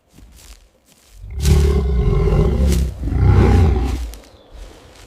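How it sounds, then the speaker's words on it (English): A mother bear defending her cub caught in a net lets out two loud, close, guttural roars back to back, deep and ferocious, with a faint growl before and after. "This roar of pure ferocity is a clear declaration of war."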